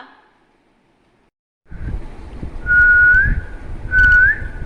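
Someone whistles two short rising notes, one after the other, close by and clear over a low background hum.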